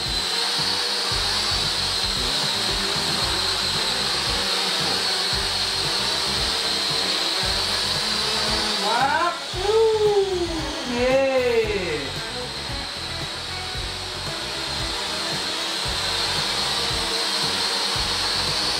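A small racing drone in flight gives a constant high-pitched motor whine, with a brief swooping rise and fall in tone midway as it changes speed.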